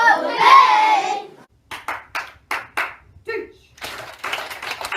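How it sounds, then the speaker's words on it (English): Classroom students respond with sharp hand claps, a run of about five to six crisp slaps spaced evenly after a burst of children's voices, with more voices and claps following. "the students respond by clapping 2 times and say okay"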